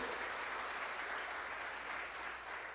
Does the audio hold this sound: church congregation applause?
yes